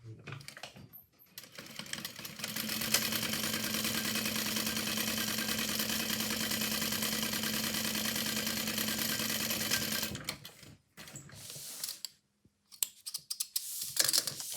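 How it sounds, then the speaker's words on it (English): A sewing machine runs steadily for about nine seconds while stitching the bottom of a lined convertible bag. It is loud, close and continuous, with brief handling noises before and after. "Before we sew the bottom, we want to put the exterior down on top."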